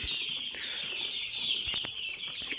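Day-old chicks on a poultry farm chirping continuously, a dense high-pitched peeping chorus from many birds close by, with a few soft knocks and no talk.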